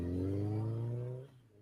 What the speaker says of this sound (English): Robin revs up the snowmobile